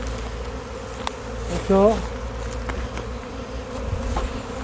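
A honeybee swarm leaving its hive drones with a steady, dense buzz close by, as a beekeeper waits for the queen to emerge; someone speaks briefly over the hum.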